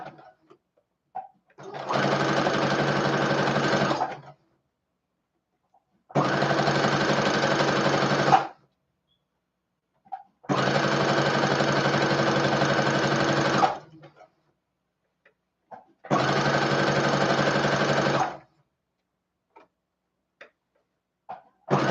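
Sewing machine running four bursts of a gathering row on a dress, each a steady rapid stitching whir lasting about two to three seconds, separated by short pauses with faint handling clicks, close and moderately loud, no talk.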